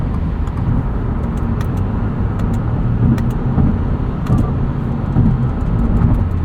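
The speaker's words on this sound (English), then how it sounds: "Still a little bit loud in here at speed." Steady cabin drone inside a 2022 Subaru WRX GT with CVT cruising at speed, a loud constant low road and engine roar with faint high ticks, no talking.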